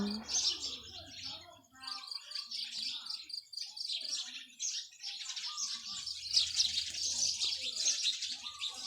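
Morning birds chirping outdoors, with many bright tweets and calls overlapping at close to mid distance, joined near the end by a low background hum, and a voice speaking briefly.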